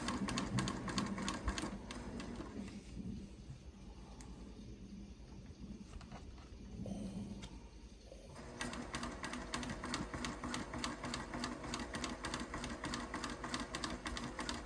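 A home sewing machine stitches a scrappy Americana flag quilt with mini flying geese, running in a fast, even, rattling chatter that slows and softens midway before picking back up, close and steady throughout.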